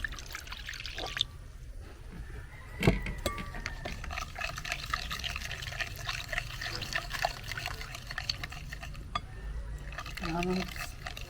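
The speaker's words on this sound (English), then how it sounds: "We have warm water here." Warm water trickles and pours into a bowl of sugar, salt and yeast for homemade cookie dough, a soft, uneven stream with a few splashes. A voice can be heard faintly in the background.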